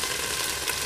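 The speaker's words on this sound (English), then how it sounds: "I'm frying it up in a little bit of the" Steady broadband sizzle of tofu frying in a little laksa paste in a hot pan, a continuous hiss with no talking.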